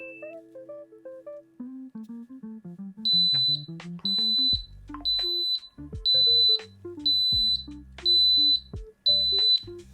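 A Takex vape sensor buzzer sounds with seven loud, evenly spaced high beeps over a droning electronic tone, after a brief run of softer stepped tones, with no speech.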